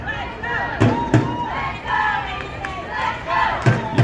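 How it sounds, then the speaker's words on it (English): Easts rugby league supporters at the Sydney League 1 grand final against St George Randwick make noise from down the field, a steady crowd roar with shouts and a few sharp thumps, fairly loud throughout. "Hear the East supporters down the bottom, just making some noise"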